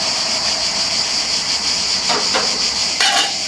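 A gas camping stove burner hisses steadily and loudly as its flame settles to blue, with a few brief clicks and rattles near the end.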